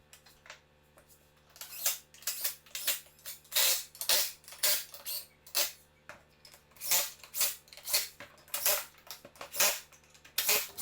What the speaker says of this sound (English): I'm just putting the screws in